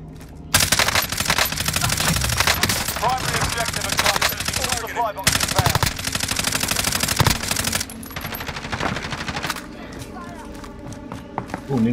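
Rapid bursts of automatic gunfire in a Call of Duty: Modern Warfare match crackle loudly and almost continuously, with single shots and fusillades overlapping as a player talks over the action.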